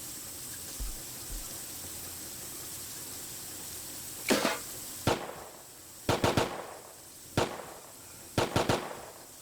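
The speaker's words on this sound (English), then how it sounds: "Somebody's shooting around my base." Gunfire near a player's base in the Rust video game: several sharp bursts of shots, some single and some in quick doubles and triples, fairly loud over a quiet ambient background.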